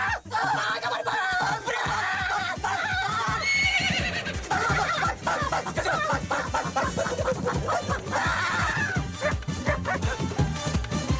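A horse neighs in a comedy film, with loud, repeated whinnies and dog-like yelps crowding a dense, busy soundtrack that stays loud throughout.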